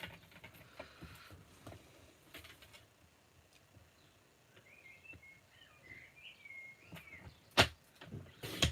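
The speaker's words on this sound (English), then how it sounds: "Hear the birds." Birds sing outdoors on a spring day, a few faint chirping and warbling calls drifting in from a distance over a quiet indoor background with scattered soft knocks.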